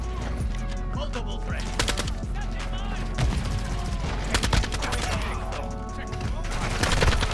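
Rapid bursts of Lachman 762 rifle fire in a Modern Warfare II multiplayer match, shots crackling densely and loudly over a busy game soundscape.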